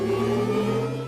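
Synthetic electric-car drive sound for the Audi R8 e-tron, triggered by a gas pedal: a steady layered hum and whir with tonal harmonics, close and sustained without talk.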